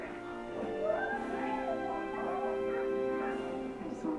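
Dogs in the Where the Red Fern Grows trailer whimper and yip softly over a background music bed, with short, uneven cries spread across several seconds.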